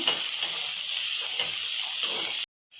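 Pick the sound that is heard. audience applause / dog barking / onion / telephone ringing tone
onion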